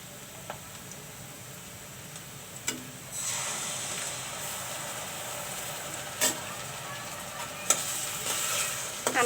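A spice mix fries in a pan with a continuous crackling hiss that swells louder partway through, punctuated by a few sharp clicks of a spatula against the pan.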